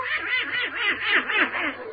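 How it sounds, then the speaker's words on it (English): A duck quacks in a rapid, close, loud series of nasal calls, roughly five or six in two seconds, with no other sounds. "I want you to meet my little duck, Herman."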